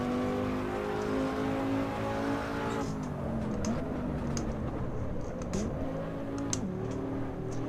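Five-cylinder car engine in the Assetto Corsa EVO racing game, a steady harmonic drone that drops after a few seconds, then swoops through shifts with sharp clicks and ticks over the engine note.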